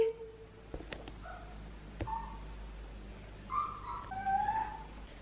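A dog at home whimpers in soft, high, drawn-out whines spaced over several seconds in a quiet room, with a couple of faint clicks and no talk.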